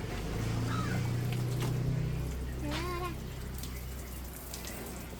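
Water runs and splashes steadily over a vehicle being washed, a continuous broad rushing wash that eases off slightly toward the end, with brief voices in the background.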